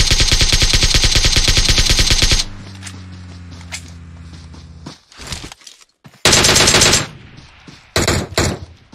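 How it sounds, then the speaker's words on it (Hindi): Loud bursts of automatic gunfire in the mobile battle royale game PUBG Mobile, a long rapid volley up front, then quieter clicks and hums before two more sharp, intense bursts near the end. "तीन गोली चला के भी रिलोड कर रहा है।"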